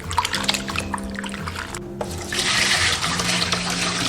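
Thin slices of lotus root being rinsed in water, with running water, splashing and gurgling close by, which swell louder in the second half with no talk.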